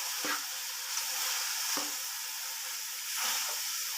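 Green chillies and tomatoes fry in keema masala with a steady close sizzle, broken by a few soft scraping stirs of a spoon in the pan.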